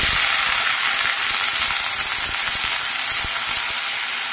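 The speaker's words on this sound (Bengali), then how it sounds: "আবারও একটু তেল দিয়ে দেব, দিয়ে উচ্ছেটাকে ভালো করে ভেজে নেব।" Pieces of bitter gourd fry in hot oil with a bright, steady sizzle, flecked with small crackles and pops, continuous and close, with no voices over it.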